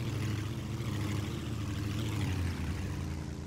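A car engine in the video game Road Rage hums at a steady, low idle, droning evenly for several seconds with no change in pitch and no voices.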